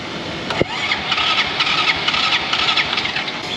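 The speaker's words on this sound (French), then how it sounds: "Elle a le démarrage électrique, mais elle n'arrive pas à démarrer." Second-hand motorbike in Vietnam with a likely dead battery, cranking on its electric starter without catching, a thin whirring grind with a short click near the start, fairly close.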